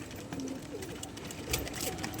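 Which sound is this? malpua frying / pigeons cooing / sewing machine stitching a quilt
pigeons cooing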